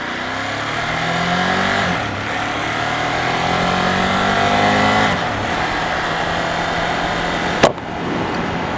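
A Ducati Monster S with its stock exhaust accelerates hard, engine revving up through rising pitches with brief dips at gear changes, loud and close, ending in a sharp knock.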